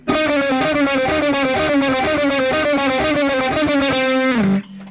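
An electric guitar runs a steady picked exercise at 120 with an effects-laden, distorted tone, fretting and picking hands working together. Even rapid notes repeat continuously and stay loud and close, then stop abruptly near the end.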